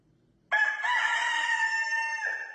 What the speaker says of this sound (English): Bro, they really have a rooster?